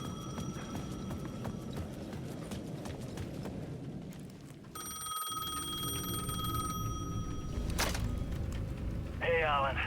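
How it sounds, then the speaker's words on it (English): A payphone rings in the Alan Wake 2 video game, its bell tones recurring against a constant dark ambient bed with clip-clop-like footsteps, the ringing clearest later on and fairly loud. "The payphone at the edge of the plaza was ringing again."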